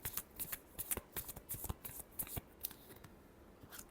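Tarot cards shuffled in quick, irregular bursts of riffling and flicking, close and fairly quiet, with brief pauses between the clusters of snaps.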